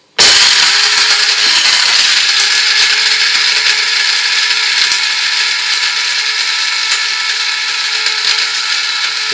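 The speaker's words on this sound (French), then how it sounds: "Donc un petit moulin comme ça." A small electric mill grinding dried carrot into flour starts abruptly and runs as a steady, loud, high-pitched whine with a gritty rattle for the whole stretch, no voices.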